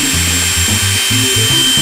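An angle grinder cutting an old aluminium screen door frame, with a loud, steady high whine and a droning motor hum that shifts in pitch in short pulses as the blade bites, close and without talk.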